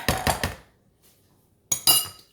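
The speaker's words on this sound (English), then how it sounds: "Let me give this a stir." A spoon stirs a squash casserole mixture in a dish with a few quick scraping clinks, a pause, then another pair of sharper knocks against the container, close and alone.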